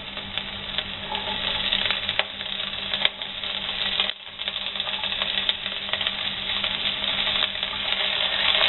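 Chopped onion frying in a pan for mixed dal gives a steady sizzle with small ticks and a spoon stirring now and then, close and moderately loud with no talking.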